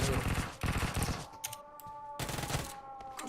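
Rapid automatic fire from a Bizon submachine gun in PUBG Mobile, loud close bursts with a short pause in the middle before another burst, game effects ringing between volleys.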